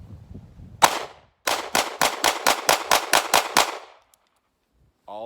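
A Taurus GX4 9mm micro-compact pistol fires Fiocchi 115-grain full metal jacket rounds at a range: one loud shot, then a rapid string of about nine sharp reports in quick succession, close and loud, followed by silence.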